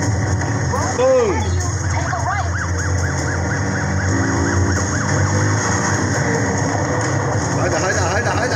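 In the racing video game Need for Speed Heat, a police car siren wails in repeated rising and falling sweeps, loud and steady, over game engine noise.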